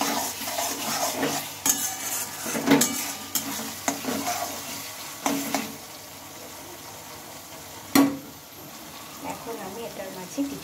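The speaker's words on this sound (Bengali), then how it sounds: "আবারও ভালোভাবে মশলাটাকে টমেটোর সাথে কষিয়ে নিতে হবে।" Spice masala and tomato fry in a pan while being stirred, a steady sizzle broken by repeated scrapes and clanks of a utensil against the pan.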